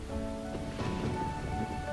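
Steady rainfall in the farming life-sim video game Immortal Life, an even, continuous patter with a faint tonal game music bed underneath, no voices.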